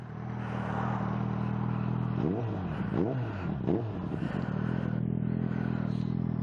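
A Suzuki GSX650F motorcycle with a Scorpion exhaust idles steadily, then revs sharply three times in quick succession before settling back to a low, even idle, close and alone.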